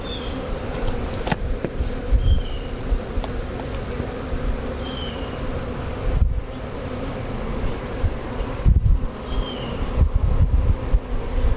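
Honeybees buzzing around a hive as a nuc is installed, a constant droning hum close by with individual bees whining past, broken by a few soft knocks and bumps.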